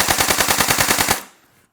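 A close airsoft AK-47 rifle (Cyma CM.022A) rattles off a rapid full-auto burst of evenly spaced shots for over a second, then stops abruptly and a faint mechanical tail fades.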